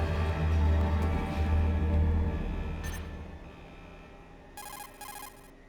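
A synthesized codec call ringtone in Metal Gear Solid chirps in two short bursts near the end, following a low rumbling game soundscape that fades out.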